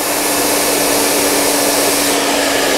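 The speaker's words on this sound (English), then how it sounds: "I'm holding the dryer at my root and drying it for lift and then straight down to straighten it." A hand-held hair dryer blowing steadily at close range while blow-drying hair for a salon-style blowout, a loud continuous whooshing roar with a slight tone, unbroken and without talk.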